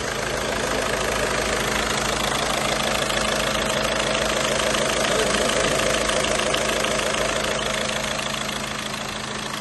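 A car engine idling at about 2000 rpm after timing belt service, with a smooth, even hum and light mechanical ticking, close by and continuous with no voices.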